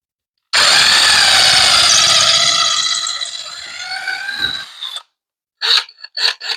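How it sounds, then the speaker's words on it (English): A loud power drill driving 3.5-inch lag bolts whirs steadily for several seconds, its pitch sagging under load as it bites in, then stops; a few short bursts follow. "I'm going to put this in here and drill my holes"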